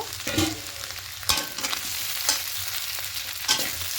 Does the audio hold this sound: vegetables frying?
yes